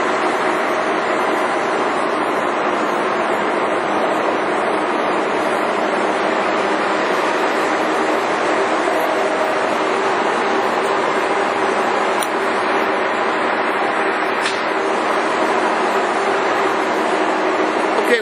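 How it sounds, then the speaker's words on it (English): A G&L 340T machine's spindle turns, driven off the main drive spindle, giving a steady, even mechanical hum with a broad whir that holds unchanged throughout. "this spindle here is turning. It is driven off of the main drive spindle on the 340T right here."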